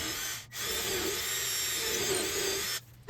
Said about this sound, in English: got ready to drill 2 new holes